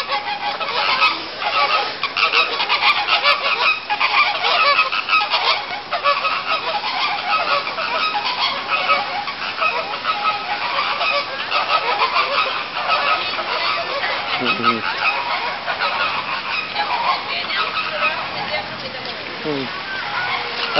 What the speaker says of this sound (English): It's flamingos.